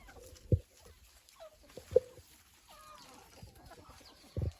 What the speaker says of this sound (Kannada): ನೋಡಿ ಯಾವ ರೀತಿ ಇದೆ ನಮ್ಮ ಕೋಳಿಗಳು